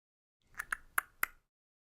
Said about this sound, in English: sorry for the clicking noise there.